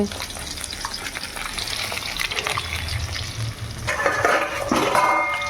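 Prawns fry in a pan with a close, steady sizzle and stirring, the crackle growing brighter and louder toward the end.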